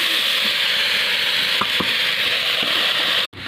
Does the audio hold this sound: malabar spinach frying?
yes